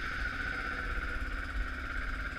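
A Kawasaki KVF 360 ATV engine with the choke on settles into a steady, even idle, with a faint high whine running over a low, rumbling throb.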